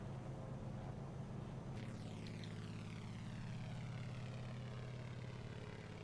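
Propeller aircraft engine in Microsoft Flight Simulator, a steady droning hum with throttle being reduced on approach, and a sweeping whoosh as the tone shifts partway through, continuous and fairly quiet.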